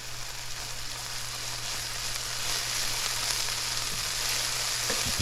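Onions fry with tomato paste in a pan, giving a continuous, even sizzle that stays close and steady throughout, with a faint clink near the end.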